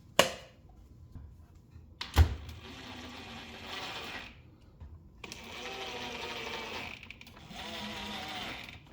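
A small power screwdriver whirs in short bursts, driving four screws into the plastic housing of a BAUER 6-gallon wet/dry vacuum during assembly; two sustained buzzing runs close by, separated by brief clicks and pauses.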